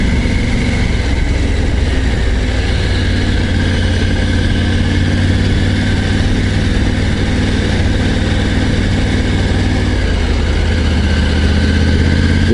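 Three-cylinder engine of a 2024 Triumph Tiger 900 GT Pro motorcycle running at a steady loud idle, a continuous close throbbing drone with no voices.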